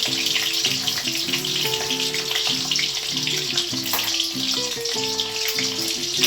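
Eggplant slices fry in a pan with a steady, close hissing sizzle that runs without pause, backed by faint background music.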